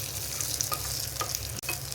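Tempering (popu) sizzling in hot oil for anapakaya (bottle gourd) pachadi, a steady close crackle with a few stirring scrapes and one brief clack near the end.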